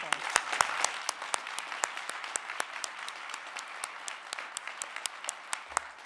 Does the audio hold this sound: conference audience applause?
yes